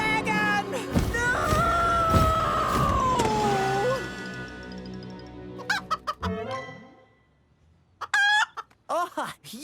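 A cartoon chicken in Thomas & Friends clucking and squawking, sustained tonal calls and sharp bursts of clucks amid music and sound effects, loud and close, with brief pauses.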